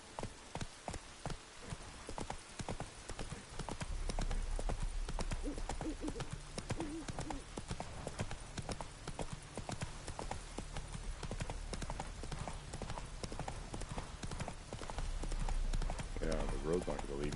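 Roach the horse trots along a road in The Witcher 3, hooves clip-clopping in a steady, close rhythm throughout, with someone talking over the hoofbeats and game music or ambience running underneath.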